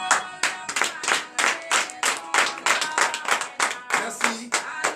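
At a morning prayer service, a congregation claps in a steady, regular rhythm of loud, evenly spaced beats, close up and continuous, with faint voices acclaiming underneath.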